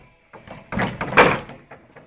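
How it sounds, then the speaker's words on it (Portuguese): A door being opened on a small farm where a pig is trying to get in, with a few wooden knocks and a scraping rattle, close and moderately loud. "Abre essa porta aí."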